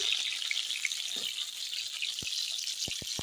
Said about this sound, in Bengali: ততক্ষণে পটলটা ভাজি পটলটা নেড়ে দিই